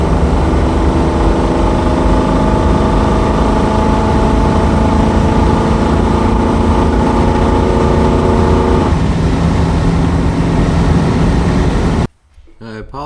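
A Triumph Stag with an automatic transmission driving along, its engine humming steadily with a drop in pitch as the gearbox shifts partway through, before the sound cuts off abruptly near the end.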